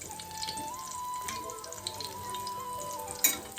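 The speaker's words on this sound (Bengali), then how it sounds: "এখন এখানে চলছে ফুলকপির পকোড়া" Cauliflower pakoras deep-fry in oil for a pre-wedding meal, giving a soft, steady sizzle with a faint tonal hum in the background and one sharp clink near the end.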